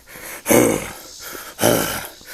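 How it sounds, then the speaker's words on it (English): Heavy breathing up close: two loud, rasping breaths in a slow rhythm, each followed by a quieter exhale, as from someone exerting themselves on a hike at Neversink Pit, Alabama. "and my heavy breathing"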